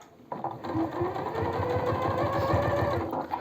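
A sewing machine runs steadily for a few seconds, stitching piping onto pajamas with a close, rapid, even mechanical whir and needle chatter.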